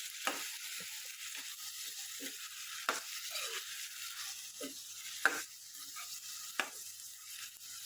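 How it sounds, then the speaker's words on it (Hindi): Masoor lentils stirred into cooked tomatoes in a pan, a low steady sizzle broken by several sharp spoon scrapes and clinks spread through the stretch, no talking. "इसमें हम ये मसूर ऐड करेंगे। अच्छे से हम एक बार हिला देते हैं।"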